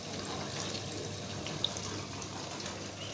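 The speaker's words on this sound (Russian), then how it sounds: "туда подается." Water flows inside a Samsung dishwasher under repair of its water supply tube, a faint, steady hiss and trickle of running water with one brief small click partway through.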